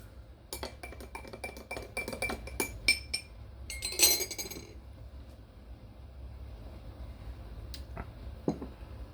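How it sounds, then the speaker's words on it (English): A spoon stirs milk coffee from a Nespresso Lattissima Plus in a glass, tapping and clinking rapidly against the sides in a close burst before trailing off to quiet swirling. "let me get a spoon, and I'm gonna stir it"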